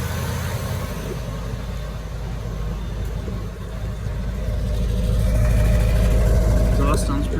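A 2003 GMC Yukon with the 8.1-litre Vortec V8 idles just after a cold start, a loud steady low rumble with exhaust tone that swells slightly toward the end.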